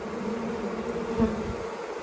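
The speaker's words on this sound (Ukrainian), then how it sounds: "Ось бджола" A bee buzzes nearby with a steady low drone at a swarm in a tree hollow, briefly swelling louder as it passes close, otherwise quiet.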